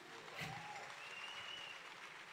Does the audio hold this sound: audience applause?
yes